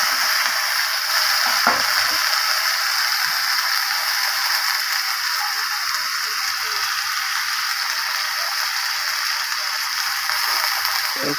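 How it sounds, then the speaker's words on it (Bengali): Potatoes fry in a pan for Bethua saag, a steady, bright sizzle and crackle running continuously with faint occasional stirring knocks. "আলু আস্তে আস্তে ভাজা হবে"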